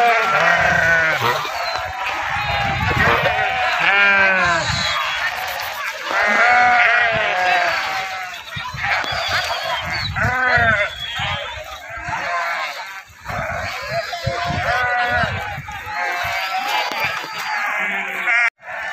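A flock of sheep being washed in a riverbed during a devotional gathering, with many loud overlapping bleats in rapid, irregular bursts close by throughout, and a crowd and occasional voices underneath.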